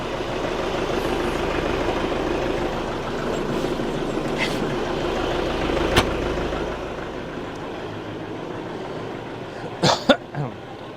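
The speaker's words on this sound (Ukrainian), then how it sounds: "Оце так запускається ДТЗ ККУ." A DTZ tractor diesel engine runs in a snowy -14 degree frost, giving a steady low rumbling chug that holds the whole time. A single sharp knock cuts in midway and a pair of clanks comes near the end.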